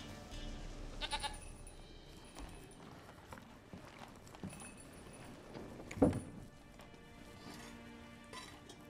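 Goat bleating in Witcher 3, a short bleat around the middle over quiet game ambience, with clip-clop-like hoof sounds and soft background effects.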